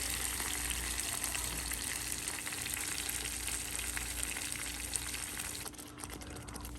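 Tadka of spices in hot oil sizzles in a pan on a home stove while mandi rice is being cooked on a rainy night, a dense steady hiss that runs throughout and eases slightly near the end.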